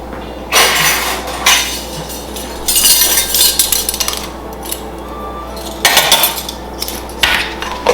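Utensil clinking and scraping against a bowl while buttermilk ranch dressing is mixed, in irregular bursts of close, bright clatter with pauses between.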